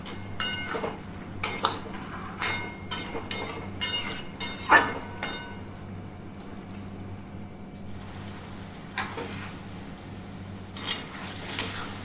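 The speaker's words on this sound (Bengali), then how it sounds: "দেখুন এটা কিন্তু কষাতে কষাতে আবার তেল ছাড়তে শুরু করছে" Bottle gourd and rohu fish stir-fry in oil, with repeated metal spatula scrapes and clinks against the pan in a quick, uneven rhythm over a low steady hum, pausing briefly before a few more strokes.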